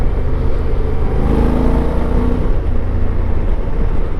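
Honda Africa Twin motorcycle engine accelerating, a loud, steady, dense mechanical drone filling the low end with no pauses.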